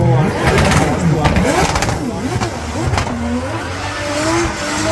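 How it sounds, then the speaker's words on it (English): A yellow S14 Nissan Silvia drifts through a track during competition qualifying in Riga, its engine revving and rising in pitch with tire squeal throughout, while a commentator talks over the loud, continuous motorsport noise. "Yellow S14 Nissan Silvia, filling out the zones, doing a good"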